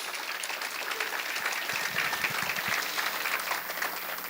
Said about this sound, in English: So please give him a round of applause for that.